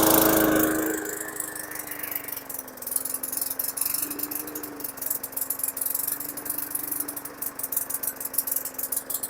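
A 2018 Hyper Tough lawn mower whose engine is failing runs close by, a loud start giving way to an uneven, rattling mid-pitched hum that surges and sputters irregularly.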